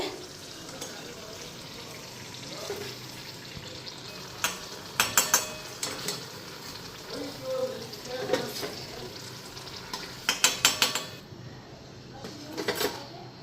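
Pea lentil fritters fry in a pan with a soft continuous sizzle, broken by sharp metallic clinks and scraping of utensils against the pan, with faint background speech at times.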